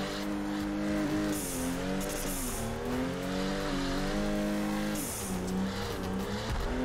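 Nissan 350z with a 2JZ engine drifting in Torque Drift, a loud sustained engine howl rising and falling with throttle, with bursts of tire squeal during the slides and no talk.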